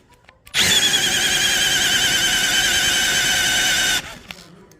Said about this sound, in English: Whew, drill didn't like that.